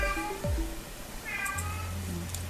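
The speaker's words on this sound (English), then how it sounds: "She's a crazy cat." A cat meows several times at close range, drawn-out rising and falling calls spaced across a couple of seconds, with a low hum underneath in a quiet indoor room during crochet work.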